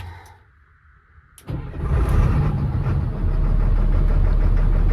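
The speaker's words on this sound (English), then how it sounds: "The engine always starts that strong." An LMTV military truck built as an expedition rig has its diesel engine cranked, catching after about a second and a half and settling into a loud, heavy, rumbling idle up close.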